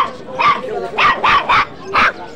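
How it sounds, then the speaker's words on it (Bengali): A small dog at a busy pet market barks and yelps at a big dog, giving five loud, close, strained barks in quick succession over a low murmur of the crowd. "শুধুমাত্র ওই বড় কুকুরটাকে দেখে কি চেঁচাচ্ছে যার দেখো।"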